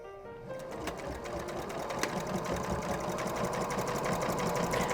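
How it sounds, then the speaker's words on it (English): A sewing machine stitches fabric in a rapid, steady mechanical whir, running close and continuous with no talking over it. "rotate the needle so it goes into the fabric, and you're going to start sewing"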